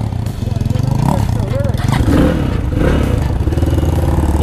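A Crossfire motorcycle engine rumbles and revs close by on a trip to Sandakpur, with a throbbing low drone and some clattering. People talk over it.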